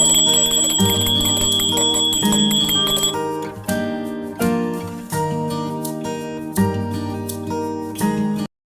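A hand bell rung repeatedly and loudly during a Hindu home puja, bright clanging strokes in bursts that ring on and overlap, ending abruptly.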